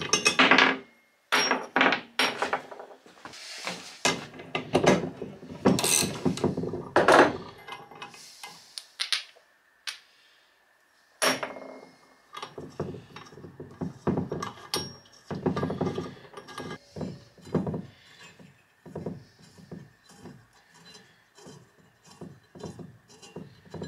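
Metal clanks, taps and ratcheting clicks come from the teardown of an old electric radiator for scrap, arriving in irregular close bursts with brief quiet gaps, loud and busy with no talking.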